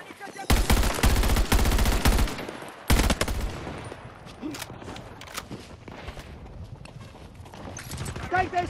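Automatic gunfire in Battlefield 2042 on PS5 in team deathmatch: a loud, close burst of rapid shots for about two seconds, then another short burst, fading to scattered distant shots and game ambience.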